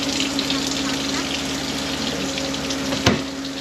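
Hot water runs steadily from a faucet in a new Sunset Trail 188BH travel trailer, a constant close hiss with a pump-like hum beneath it and one brief knock near the end.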